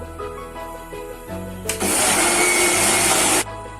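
A kitchen blender grinds a spice paste in one loud, buzzing burst of under two seconds, then cuts off sharply. Soft background music plays before and after the motor.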